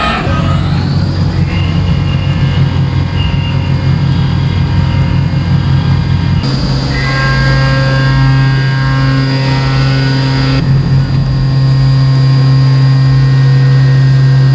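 CNC machine spindle drilling a part with a peck cycle every millimetre, a loud steady machine hum with strong tonal whine that shifts pitch in distinct stages, no talking.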